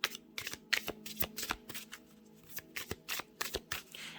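A tarot card deck being shuffled by hand: quick, crisp riffles and flicks in uneven bursts, close and moderately loud, with a brief lull in the middle before more rapid shuffling.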